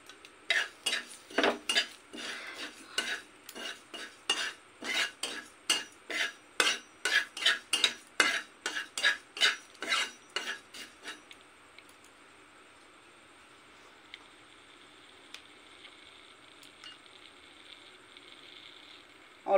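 Cumin seeds and a torn bay leaf being dry roasted in a dry wok, with a steady run of quick scraping, stirring clatters for about eleven seconds, then only a faint low sizzle and hiss.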